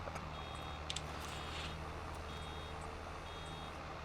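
Reversing beeps from a farm vehicle in Farming Simulator 22, faint evenly spaced tonal beeps repeating over a steady low engine hum, with a few brief clicks.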